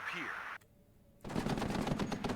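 Gunfire from units in the video game WARNO: a dense, loud burst of rapid automatic fire erupts after a brief near-silent pause, with a sustained crackling rattle at close range.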